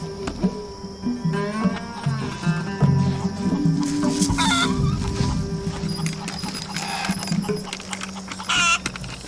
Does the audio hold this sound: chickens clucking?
yes